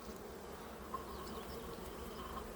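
Honeybees hum and buzz around an opened hive during inspection, a dense, steady, faint drone of many wings close by with no voices.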